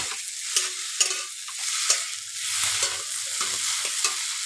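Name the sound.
frying potatoes until red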